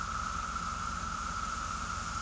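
Cicadas in trees outdoors give a steady, continuous high drone that holds unchanged throughout, with no talking over it.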